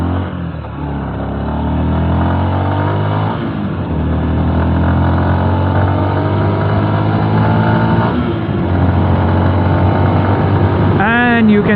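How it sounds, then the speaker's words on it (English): Yamaha FZs 2021 149cc motorcycle engine starting and pulling away through the gears, a loud, steady close-up drone rising in pitch with each shift, a voice briefly audible over it. "let's start the bike."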